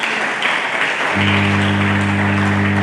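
A church congregation claps along at a sermon service while a low, steady organ-like drone enters partway through and continues under the applause.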